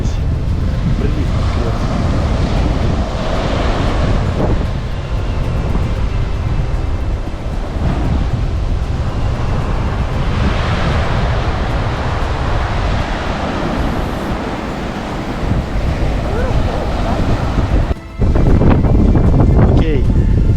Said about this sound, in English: Смотри, где уже волны такие.